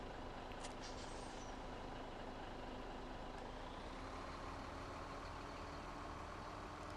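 BsM 950 Legende truck in Farming Simulator 17 accelerating, a steady, moderately loud diesel engine drone with low humming tones that holds throughout.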